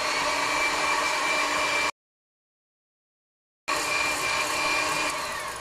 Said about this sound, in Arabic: زي ما احنا شايفين كده بعد ما ضربت البيض كويس جدا